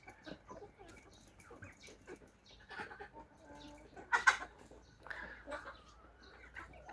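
Mechelen (Malines) hens and roosters cluck and murmur in a farm setting, soft scattered calls with one louder squawk partway through, fairly faint against a quiet background.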